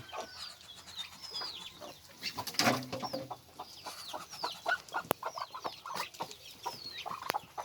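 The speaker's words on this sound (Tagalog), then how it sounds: "May manok, may itik." Chickens cluck and murmur steadily at close range on a rural farm with ducks, other birds chirping around them and a brief louder squawk partway through.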